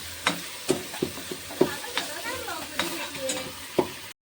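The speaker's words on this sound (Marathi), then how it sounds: "पण बस आम्ही जिरं टाकलेलं आहे आणि थोडं हलवून घ्यायचं" Onion and cumin seeds frying in a pan while a spoon stirs them, giving a steady sizzle broken by regular scraping knocks against the metal, heard close and alone.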